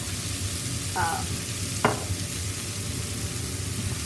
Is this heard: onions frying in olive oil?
yes